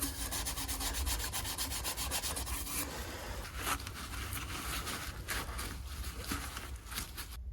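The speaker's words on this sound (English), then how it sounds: "Going back to the brass brush here" A brass brush scrubs an aluminum transmission casing from a Series 3 Land Rover, a steady close scraping rub with rapid repeated strokes running continuously throughout.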